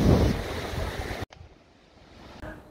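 Sea waves washing below Tintagel Castle on the Cornwall coast, a broad surf roar mixed with wind noise, heavy at first and then cutting to a quieter distant wash.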